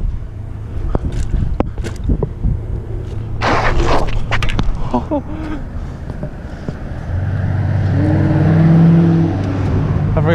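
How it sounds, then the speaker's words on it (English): Heavy car traffic on a Long Beach street, with a steady rush of passing vehicles and road noise, and a nearby engine humming and revving louder toward the end. "I forgot there's heavy traffic over here."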